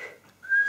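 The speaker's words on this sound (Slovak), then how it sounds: "Aha, chce zapískať." A child blows a small toy whistle, giving a short, faint breathy tone that rises into a brief clear high whistle at the end.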